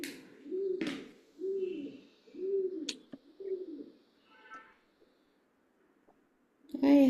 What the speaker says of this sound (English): pigeons on my windowsill doing some talking